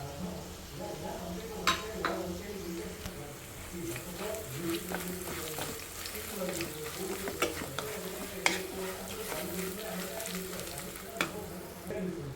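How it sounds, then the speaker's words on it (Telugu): Ground garlic spice powder and turmeric stirred and fried with ivy gourd in a pan, a steady sizzle broken by frequent scraping and clinking of the spoon against the pot, close and continuous. "పసుపు వేసి ఇప్పుడు అంతా మిక్స్ చేసి స్మెల్ పోయే వరకు వేయించుకున్నాం"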